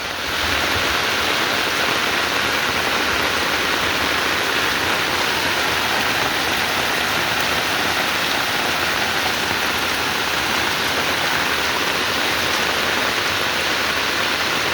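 Heavy rain pours down outdoors, a loud, dense, unbroken hiss of drops hitting surfaces for the whole stretch, with no speech.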